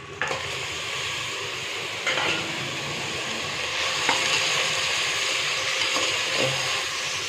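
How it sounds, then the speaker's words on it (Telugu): Washed mutton goes into sizzling ginger-garlic masala for a mutton and broad bean curry, a loud, steady sizzle close up, with a few stirring scrapes and clinks of the ladle against the pan. "తర్వాత కడిగి పెట్టుకున్న మటన్ వేసేసేయండి"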